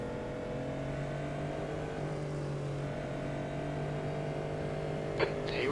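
Cadillac GTP prototypes and GT3 cars launch together at a green-flag start at Daytona in iRacing, a steady engine drone building under a voice, with a brief sharp burst near the end.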